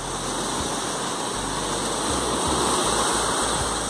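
Ocean waves breaking on the beach during fishing on a rising tide at Pontal de Maceió, a steady broadband roar of surf with no pause.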